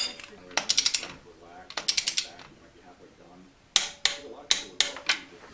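A ratchet wrench clicks in quick bursts while torquing the engine mounts of a Honda CB300 engine being fitted into a Honda Grom, with several separate rapid ratcheting runs heard close up and gaps between them.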